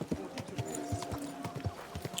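Horse hooves clip-clop in a video game, a rapid, even series of close, crisp hoof strikes on hard ground with no voices over them.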